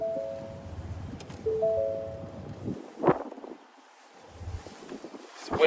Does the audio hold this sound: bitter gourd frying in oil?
no